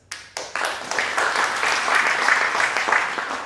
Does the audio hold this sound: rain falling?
no